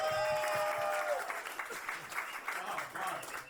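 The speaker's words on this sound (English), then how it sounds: "let's clap it one more time." Audience clapping at a roast battle comedy show in New York, a moderate wash of applause under ongoing talk and reaction from people on stage.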